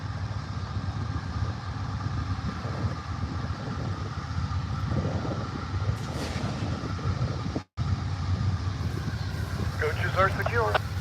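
The Amtrak California Zephyr pulls out of Ottumwa station in Iowa with a steady low rumble of the moving train and a brief higher squeal near the end. Radio chatter or talk is faintly present.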